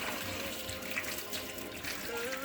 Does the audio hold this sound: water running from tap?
yes